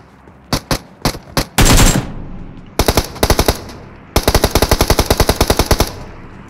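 Automatic weapon fire in the mobile game PUBG Mobile during a squad fight in Pochinki: short separated bursts, then a sustained rapid string of loud, close shots with brief pauses between volleys.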